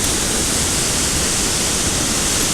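A close, continuous roar of floodwater comes from the Zeballos River surging through its canyon constriction during a rain-on-snow flood, dense and unchanging throughout.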